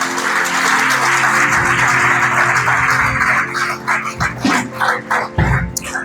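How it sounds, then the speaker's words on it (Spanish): A church congregation claps loudly and steadily for several seconds, a dense wash of applause that thins into scattered claps near the end. "Dale un fuerte aplauso al Señor"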